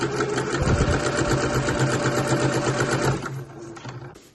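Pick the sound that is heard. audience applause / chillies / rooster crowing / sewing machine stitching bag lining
sewing machine stitching bag lining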